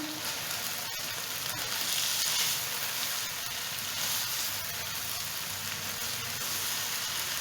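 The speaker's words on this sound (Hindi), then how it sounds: "अब हम इसमें बंद गोभी ऐड करेंगे। इसको अच्छे से मिक्स करेंगे।" Shredded cabbage stir-fries with chicken and mixed vegetables in a hot pan, a steady, moderately quiet sizzle and hiss that continues evenly throughout with no speech.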